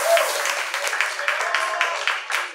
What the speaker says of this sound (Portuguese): Mais barulho, mais palmas.